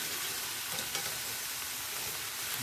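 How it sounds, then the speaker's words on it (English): Onions and peppers softening in a pan, a steady faint hiss of frying with small crackles, no talk over it. "We cooking the onions and the peppers so they get soft and slightly sweet"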